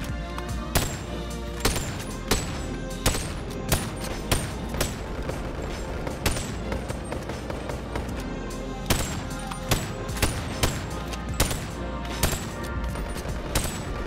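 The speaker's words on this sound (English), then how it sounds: "the regular pistol seems to be the easiest to shoot" Pistol shots in the VR game Boneworks, loud single cracks fired at irregular intervals over a steady background hum, with no talk.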